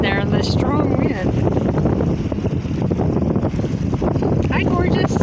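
Strong wind buffets the microphone on Fort Flagler Beach, a loud, continuous roar with gusty surges throughout, and a voice talks over it.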